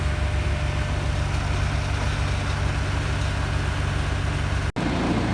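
A skid steer and a tractor run steadily while pulling a fabric barn roof into place, a low, continuous engine drone heard from nearby with no talking and a brief dropout near the end.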